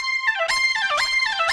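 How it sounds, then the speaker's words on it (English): An Oberheim synthesizer alternates rapidly between a low and a high note with a slow glide, producing a bright, warbling tremolo that repeats in quick swelling pulses. "It's just playing a low note and a high note really quickly against each other with that quite slow glide time to get this kind of tremolo effect"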